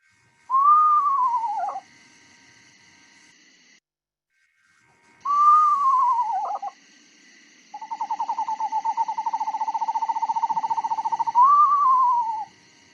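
A recording of screech owl song plays back, with descending whinny-like whistles followed by a long, steady, rapid trill that ends in another falling whinny, clear against a silent background.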